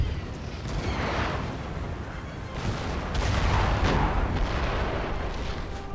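Artillery fire in the strategy video game Napoleon: Total War: dense, rumbling booms and battle din that roll continuously and loudly, with heavier blasts swelling now and then over the steady roar.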